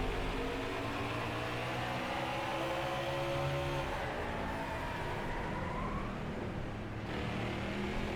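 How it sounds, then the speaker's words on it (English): In NASCAR Heat 5 at Martinsville, a car's left front brake locks up on corner entry, giving a continuous tonal squeal that bends and wavers in pitch over steady engine drone, with no talking. "Gotta love the braking sound."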